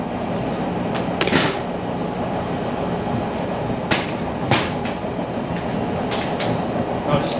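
Chicago Orange Line elevated train riding toward downtown, a steady loud rumble of the railcar with repeated metallic clacks and squeals from the wheels and track, no talking.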